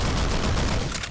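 A bomb blast in the sandbox video game Garry's Mod, a loud, dense burst of explosive crackle and low rumble filling the whole moment with no pause.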